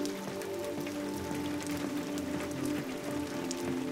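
Steady rain patters down in a continuous wash, soft and even, with no voices over it, in the video game Detroit: Become Human.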